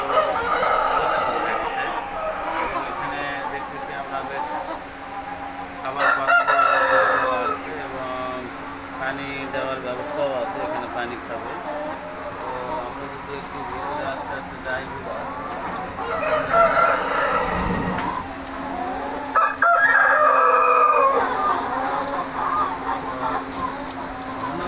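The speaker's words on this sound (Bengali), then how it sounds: "আর ওই পাশে দেখতেছি কিছু মোরগ আছে," Roosters crow repeatedly among clucking hens at a village broiler parent stock farm in Bangladesh with 360-day-old birds; several crows rise over a steady mechanical hum, with voices faintly present at times.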